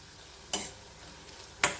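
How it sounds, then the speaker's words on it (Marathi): Chopped onion sautéing in oil with turmeric and curry leaf powder: two brief, sharp scrapes of a stirring spoon about a second apart over a faint, low background hiss. "छान परतून घ्यायचा कांदा"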